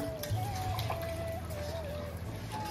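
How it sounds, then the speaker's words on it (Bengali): Water poured into a pan of cooked-down spice masala for a chicken gizzard curry, a steady close splash and trickle running throughout with a thin whistling tone over it. "এখন দিয়ে দিচ্ছি জল।"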